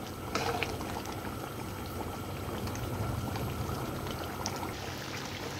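Mutton curry simmers on low heat as its water cooks down, a soft bubbling and gurgling that stays steady and close with a few small pops, no talking over it.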